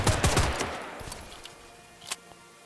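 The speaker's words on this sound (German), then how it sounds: "Jetzt kann ich auch mit meiner Pistole schießen." A quick string of pistol shots in Sniper Ghost Warrior 3, loud and close at first, then tailing off into echoing decay, with one more faint shot about two seconds later.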